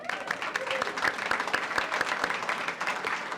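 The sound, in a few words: applause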